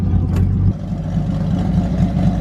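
A drift kart with a Mustang engine runs close by, a short burst of rough revving that drops to a lumpy, uneven idle.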